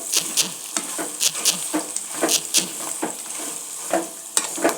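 Avalakki (flattened rice) with salt, sugar, roasted gram and peanuts is stirred in a hot pan, giving rhythmic scraping strokes over a soft, continuous sizzle.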